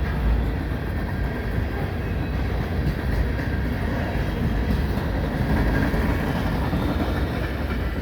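CN freight train rail cars, including opera-window type cars, roll steadily past close by with continuous rumbling and rattling wheel noise and no talking.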